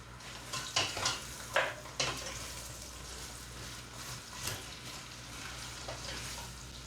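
Chopped onions with salt are stirred in a frying pan, giving a soft sizzle broken by a few clinks and scrapes of a spoon against the pan, quiet and close, with no talking.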